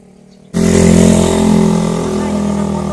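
A motorcycle engine starts up loud and close after a quiet half second, then holds a steady low idle-like drone, with people chatting on a road toward Tagaytay.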